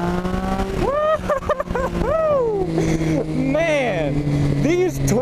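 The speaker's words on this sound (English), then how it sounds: "Triumph Speed Triple." A 2012 Triumph Speed Triple R motorcycle engine holds a loud, steady drone while riding, with rising and falling tones sweeping over it as the revs change.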